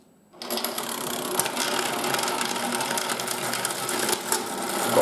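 1980s Nikko Mighty Washer toy washing machine running its wash cycle with a coin in the fabric, a small motor whirring and rattling steadily after a quiet start, close and fairly faint.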